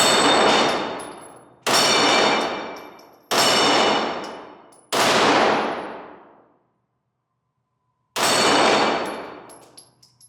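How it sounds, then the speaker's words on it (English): CZ 75 Tactical Sport 9mm pistol firing at steel flapper targets outdoors: five loud, sharp shots, each with a long ringing decay, and a pause of about a second and a half before the last. "maybe I can shoot some of those flappy pedals and not embarrass myself like I usually do, because they're freaking hard to hit"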